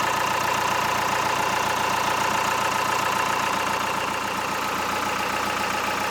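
A 47-year-old sailboat engine runs steadily at idle, a loud, rhythmic chugging and knocking that holds an even pace with no voices.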